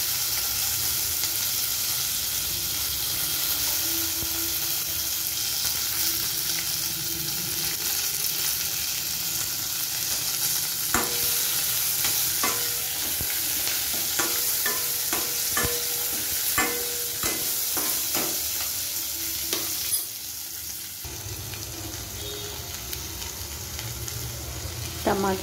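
Coriander and onion pieces fry in a pan for an onion chutney, a steady close sizzle running throughout, with a burst of spatula scrapes and clicks in the middle stretch and no one talking.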